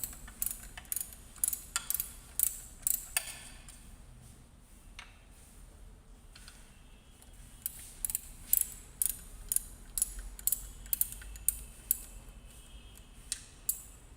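Ratchet handle loosening the bolts of a clutch pressure plate, with rapid bursts of sharp metallic clicking in quick runs separated by quieter pauses, close and fairly faint, no talk.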